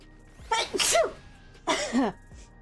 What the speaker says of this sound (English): Because if I acknowledge that I need to sneeze, there's a good chance that I won't.